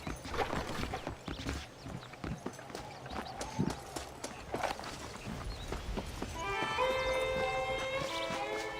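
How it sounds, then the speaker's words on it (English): Horse hooves in the video game Red Dead Redemption clip-clop in an uneven rhythm over ambient outdoor noise, followed by a soft musical tone rising in the background. "The horses are saddled up over here."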